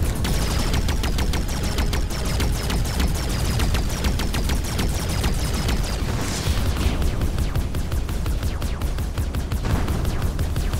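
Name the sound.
gunfire while destroying turrets in video game Arc Savior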